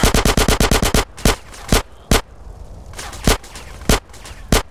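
Gunfire in GTA San Andreas: a quick run of eight close, sharp shots, then single cracks spaced out irregularly over a low background rumble, loud and near.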